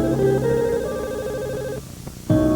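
A telephone rings with a repeated electronic ringtone pattern, cutting out briefly before another ring starts, heard alone with no talking.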